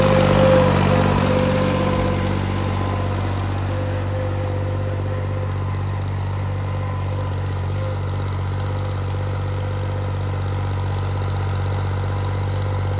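A modified New Holland 3630 Special Edition tractor engine runs steadily at a low, even rumble, close and continuous throughout with no voices.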